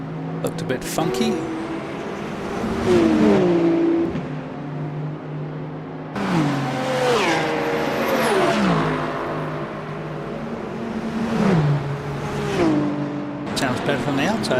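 A race car engine in the Le Mans Ultimate racing game revs and climbs through gears repeatedly, loud and sustained with falling pitch on each shift, under occasional talking.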